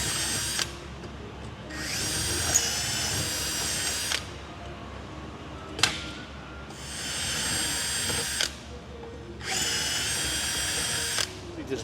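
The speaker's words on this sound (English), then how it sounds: "You just drill and then go back deburr and then feed fasteners." A power drill bores through metal parts during a Sling TSi aircraft kit build, with three separate high-pitched whirring bursts of about two to three seconds each. Brief clicks and a low hum fill the gaps between them.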